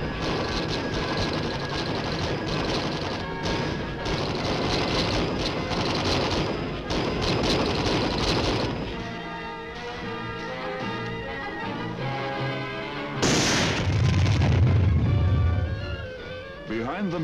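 Vietnam-era combat gunfire from a screen of supporting fire, with dense rapid automatic bursts and repeated shots, loud at first, thinning into scattered reports, ending in a heavier boom, partly under someone narrator's voice.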